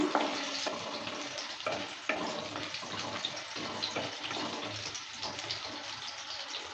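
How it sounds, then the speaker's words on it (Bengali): Potatoes stirred in hot mustard oil in a pan, a steady, moderately quiet frying hiss with soft scraping and stirring movements running throughout. "সর্ষার তেলটা হিট হয়ে গেছে এবার দিয়ে দিচ্ছি আলু"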